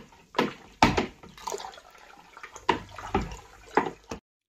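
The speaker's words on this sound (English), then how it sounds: "I'm just going to give it all a big stir to make sure that it's all mixed together" Homebrew pale ale wort and yeast are stirred in a fermenter, giving irregular sloshing swirls and splashes, close and moderately loud, in separate bursts before a sudden stop.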